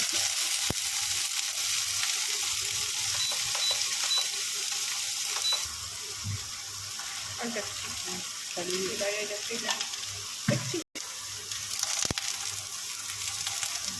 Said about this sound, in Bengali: শুধু হালকা করে পনিরগুলো ঘিতে ভেজে নিলেই খুব ভালো টেস্ট আসছিল